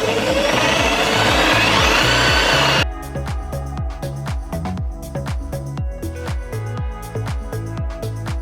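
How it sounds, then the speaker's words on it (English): A jigsaw cuts rectangles from a wood cladding panel: a loud, steady power-tool whine for a few seconds, then a rapid rhythmic rasping of the blade chewing through wood, continuing without talk. "get the jigsaw in, and cut these rectangles out"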